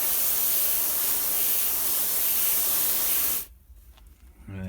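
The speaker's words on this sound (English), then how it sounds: "Give it another spray down." A steady, close hiss of water spraying onto soil for a few seconds, then it cuts off abruptly, leaving quiet room sound.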